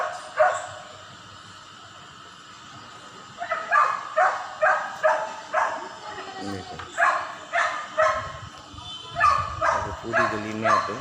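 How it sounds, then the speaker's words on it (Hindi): A dog barking over and over in a residential street, a regular series of sharp, fairly close barks after a quieter opening, with someone talking at the same time. "देखो कितनी बुरी तरह से कुत्ता भौंक रहा है लगातार।"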